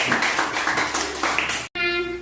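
A classroom group claps for the first team of presenters, a dense burst of hand claps lasting under two seconds before cutting off abruptly.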